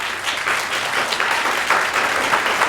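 An audience in a high school theatre applauds during a Peter Pan and Wendy play, a thick, continuous wash of clapping that stays loud and even across the whole stretch, with no clear speech.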